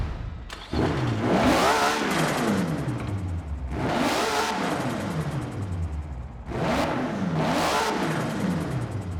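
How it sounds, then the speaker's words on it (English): Stock engine of a 2002 Nissan GT-R V-Spec II in the racing game Horizon 4 fires up and revs in three loud, rising-and-falling surges, each climbing sharply then dropping back, close and alone with no talk. "All right, start it. Here's the original engine sound."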